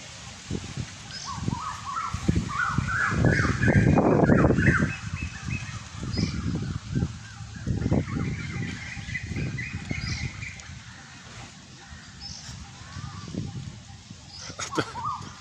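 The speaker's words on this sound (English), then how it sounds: "The bird just flew right just across me." Outdoor geese-like honking calls repeat in loose bursts, loudest and densest early on, then scattered and thinner, with wind-like background noise and occasional faint rustling.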